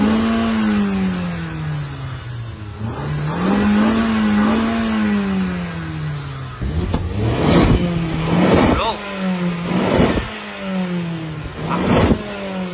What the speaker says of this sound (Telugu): ఇంజన్ సౌండ్ వస్తుంది